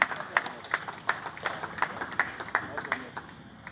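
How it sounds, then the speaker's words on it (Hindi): Applause for staff honored at a municipal Independence Day ceremony in Chandigarh, heard as crowd clapping with regular stronger bursts under a steady bed of hand claps, fairly distant and moderate in level. "जोरदार तालियां इनके लिए।"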